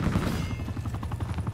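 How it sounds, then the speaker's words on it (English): An attack helicopter in Call of Duty Black Ops 4 thrums with a steady, rapid rotor chop, loud and continuous, with low rumbling mixed in. "Attack chopper standing by."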